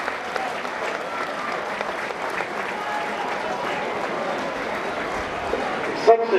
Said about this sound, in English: having a wonderful reception from the crowd